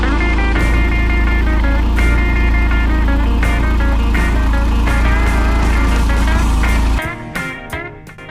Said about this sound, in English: I'm gonna warm up the car to make sure the oil is at least warm enough